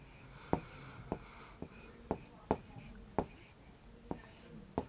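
Chalk or marker writing on a classroom board in a maths lesson makes a series of sharp, regular taps and short scratches, close but fairly quiet over faint room noise.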